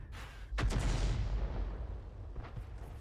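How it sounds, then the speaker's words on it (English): Enemy artillery firing in a tank video game, a deep booming blast followed by a rumbling tail and a fainter second thud. "And enemy Arty still is now firing at us."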